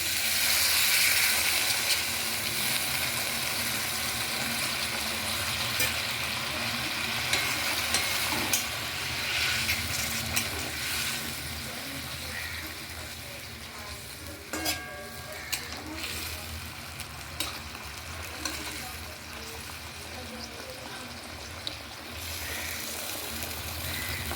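Fish curry bubbles and sizzles with a steady hiss in a pan after broth is poured in, with occasional clicks and scrapes of stirring beneath intermittent talk.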